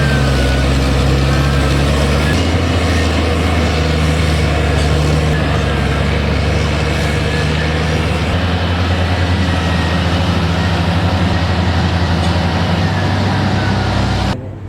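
A Caterpillar 14M3 motor grader works a muddy mine road with a loud, steady, low diesel drone and rumble that continues unbroken and close until it drops away at the very end.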